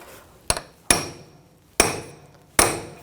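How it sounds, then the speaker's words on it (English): A hammer tapping a metal punch to peen over an axle nut on a 2000-2006 BMW X5 front CV axle: four sharp, ringing metallic strikes at uneven intervals, close and loud with short decays, no talk. "Now I'm just going to take a punch and just peen over the nut, just where the little cutouts are on the axle."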